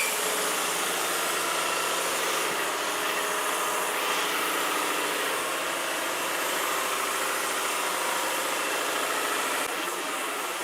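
A Lefondat 2-in-1 airless paint sprayer runs steadily while coating a ceiling or wall, giving an unbroken, even mechanical hum and hiss that holds at a constant level throughout, with no voices.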